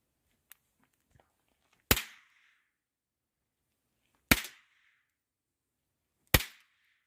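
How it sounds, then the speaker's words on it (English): Three sharp, loud pops from Fat Boy Snaps by Sunwing Fireworks, snap-type novelty fireworks, spaced about two seconds apart. Each crack rings out briefly and alone, with a faint tick before the first one. "up next we got Fat Boy Snaps by Sunwing Fireworks"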